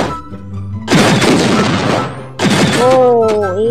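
Sniper rifle gunfire in the shooting game Sniper Wars, two loud booming shots with rumbling tails about a second and a half apart, mixed with game tones and effects.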